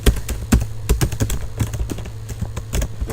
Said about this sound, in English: So I'm going to type in Mendelsohn